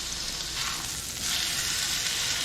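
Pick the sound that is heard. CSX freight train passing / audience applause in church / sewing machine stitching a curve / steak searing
steak searing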